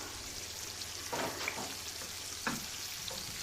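Onions fry in hot oil in a pan with a constant soft sizzle, broken by a few brief stirring clatters and no voices.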